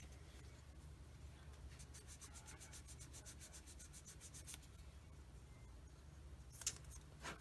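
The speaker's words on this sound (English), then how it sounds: "hit it with sander. Make sure it's smooth." A hand sander smooths a plastic part of a 1/35 scale model kit. The clip carries a quiet, continuous rubbing hiss close by, with a burst of rapid rasping strokes midway and a sharper scrape near the end.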